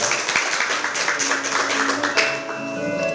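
A crowd applauds at a youth party launch ceremony, steady dense clapping that fills the room for about three seconds, with a few louder claps standing out and faint tonal background sound underneath.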